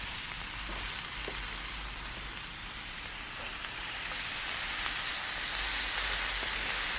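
Smashburger patties of 80-20 beef sizzle on a hot 450-degree grill without oil, a steady broad frying hiss that stays even and close throughout, with no voices.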